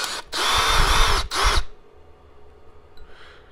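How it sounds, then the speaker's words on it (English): Power drill whirring in two bursts as it drills out screws on an Arrma Kraton RC car, loud and close, a long burst then a shorter one, followed by near silence with a faint tick. "when you drill these out, it just kind of makes it a little bit easier"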